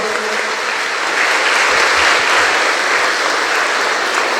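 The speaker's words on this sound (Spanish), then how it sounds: "Se ponen de pie, un aplauso por este paso que han realizado" A church congregation at Sunday Mass applauds in a loud, dense wash of clapping that swells slightly and holds steady, with no voices over it.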